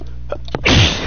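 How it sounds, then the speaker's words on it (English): A single loud, close sneeze bursts out after a brief sharp intake of breath, ending in a hissy exhale. "Better sneeze again."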